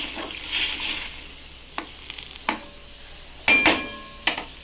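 Water hits hot masala for a Bengali prawn and bhola fish curry and is stirred in a pan, giving a soft sizzle with a few sharp spatula clinks and scrapes near the end.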